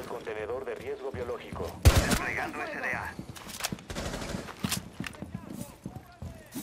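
Gunshots in Rainbow Six Siege on PS4 come as a sharp burst, then scattered shots and thumps. Someone talks over them, sounding agitated.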